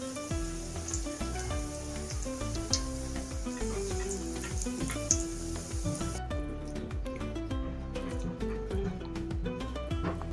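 Battered eggplant slices for beguni fry in hot oil with a loud, continuous close-up sizzle and crackle that stays steady throughout, without voices.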